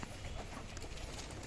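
Pigeons cooing softly in the distance, faint under a steady wash of outdoor noise, with no talking.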